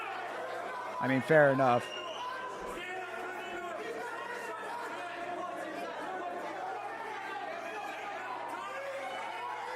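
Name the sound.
crowd noise at BKFC 86 fight broadcast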